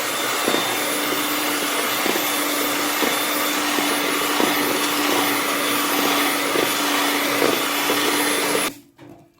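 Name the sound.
electric mixer beating eggs for cake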